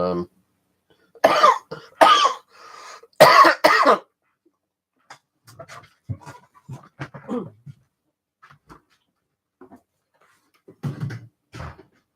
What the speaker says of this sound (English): I was coughing up a little bit of phlegm now